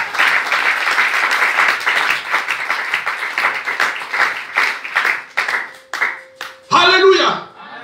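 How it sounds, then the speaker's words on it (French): A church congregation applauds and cheers for Jesus with sustained, crowded clapping that gradually thins out. A preacher's voice then speaks over the fading applause. "Oh, quelqu'un peut acclamer Jésus."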